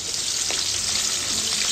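Chopped onions fry in a pan of hot oil in a home kitchen, a loud, dense, steady sizzle filling the whole moment, up close and without talk.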